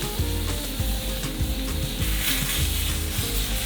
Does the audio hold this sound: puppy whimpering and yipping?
no